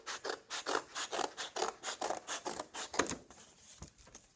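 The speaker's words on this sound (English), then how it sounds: "I'm going to cut it all the way across." Scissors cutting across a sheet of paper, about a dozen quick rhythmic snips in steady succession, close and fairly crisp, with no talking.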